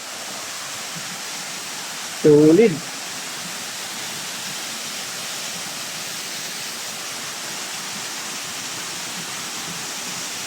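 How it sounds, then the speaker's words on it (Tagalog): Water rushing over Wawa Dam in Montalban, Rizal, a steady broadband roar that holds unbroken throughout, with a brief louder burst near the start. "Lalapit tayo dun sa dam, sa umagos sa tubig"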